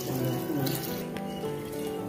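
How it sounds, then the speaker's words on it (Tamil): Water is poured into a pot of vegetable biryani, one vessel of water per vessel of rice, a close and continuous splashing stream lasting about two seconds. "இப்போ தண்ணி சேர்த்துக்கலாம் நான் இந்த செம்புக்கு ஒரு செம்பு தண்ணி"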